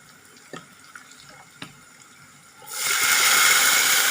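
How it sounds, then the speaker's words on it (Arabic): Vinegar is poured while cooking Egyptian fatta: a few light clicks and taps, then a loud, continuous splashing gush of liquid starts partway through and runs to the end, with no speech. "دلوقتي بقى نحط شوية خل"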